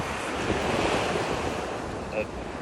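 Ocean waves roll and wash steadily at sea, a loud broad surf roar mixed with gusty wind buffeting the microphone, continuous throughout.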